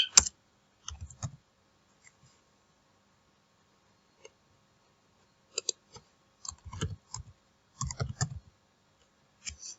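Typing on a computer keyboard, with irregular bursts of quick clicking keystrokes separated by quiet pauses, close and fairly crisp, with no talking.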